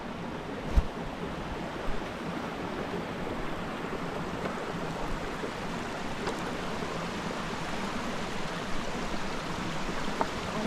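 A small creek and waterfall in Shenandoah National Park, a steady broadband rush of falling and flowing water heard close up, continuous and even, with a few faint knocks from the hiker's movement.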